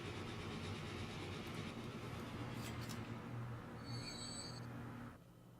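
A train runs along the tracks in the Transport Fever video game, producing a steady low rumble with rolling noise and a brief high whine near the end before the sound drops away.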